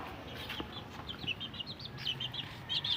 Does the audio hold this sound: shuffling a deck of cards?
no